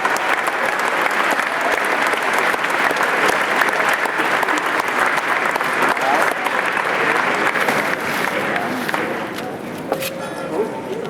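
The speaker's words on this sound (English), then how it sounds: "So please give him a big round of applause." Sustained applause from a large graduation crowd honouring a retiring Alumni Association president, dense steady clapping filling the whole stretch, with voices mixed in and a slight easing near the end.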